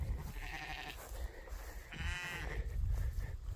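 Sheep bleating with new lambs out in the rain, two close, loud, wavering bleats about a second apart against a constant patter of rainfall.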